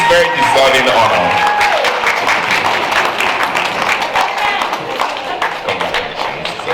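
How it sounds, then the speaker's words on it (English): Audience at a church gala applauds an award recipient, dense clapping filling the room steadily throughout, loud and close, with some cheering and voices mixed in. "Please give a very senior applause for this recipient"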